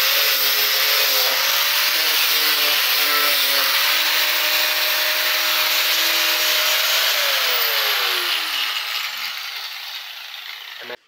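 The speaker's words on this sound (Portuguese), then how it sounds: "Terminei de lixar" Sandpaper rubbed over a surface for a craft project, a steady broad scratchy hiss running continuously for about ten seconds with a faint motor-like drone beneath, fading toward the end.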